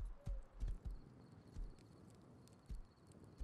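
Horse hooves clip-clopping in the survival game Rust, a series of sharp low thuds in an uneven walking rhythm, fairly close, with faint background ambience and no talking.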